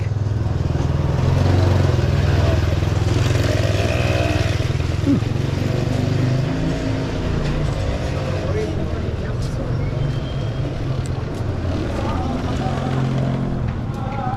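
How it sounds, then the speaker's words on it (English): A motorbike moves along a busy Marrakesh street, with a steady engine drone amid general traffic and crowd noise, fairly loud and continuous, and people talking nearby. "Bike."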